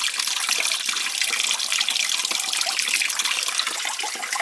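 Water drained from a gas steam boiler makes a steady, hissing rush like a running tap, continuous and fairly close with no pauses for the whole stretch.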